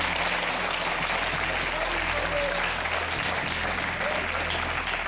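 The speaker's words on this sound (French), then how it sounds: "ça mérite presque des applaudissements, mesdames et messieurs" Studio audience at a French TF1 television show bursts into sustained applause, a dense steady roar of clapping held at even loudness throughout, with a low hum underneath.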